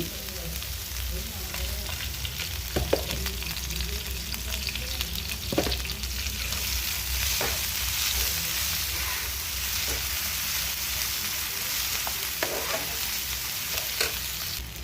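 Ghee sizzling in a frying pan on the stove, a steady close crackle and hiss with scattered small pops, continuing evenly and alone.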